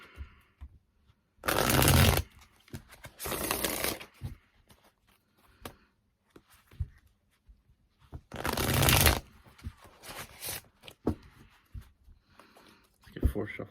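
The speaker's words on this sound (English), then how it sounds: "Let's get 4 shuffles for Geminis." Tarot cards being shuffled in three loud, close riffling bursts of a second or so each, with softer handling noises and quiet gaps between them.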